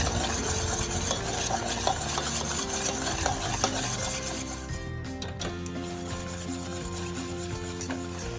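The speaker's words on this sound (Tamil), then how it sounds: "நல்லா விடாமல் கிளறிட்டே இருக்கணும்" Continuous stirring and scraping of a Maha Lacto sweet mixture in a pan, a steady gritty rubbing with a faint sizzle underneath, close and fairly loud throughout.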